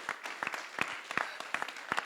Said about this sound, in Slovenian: en aplavz za svetega